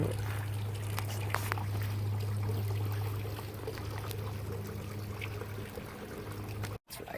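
Water pouring and trickling from a backyard deck fountain made from an outboard motor, a steady gentle splash with a low hum early on, fairly faint and close.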